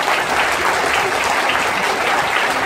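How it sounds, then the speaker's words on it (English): A crowd at a silver band concert in the Spiegel Tent at the Piece Hall, Halifax, claps loudly and evenly for the whole stretch, a thick continuous wash of hands. "You deserve a round of applause."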